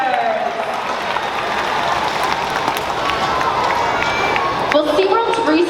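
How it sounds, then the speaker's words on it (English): Audience applauding in the stands at a SeaWorld killer whale show, a broad crowd wash of clapping and cheering that holds steady throughout, with a few voices rising near the end. "How about a round of applause for Trua, Makayo, and our audience volunteers?"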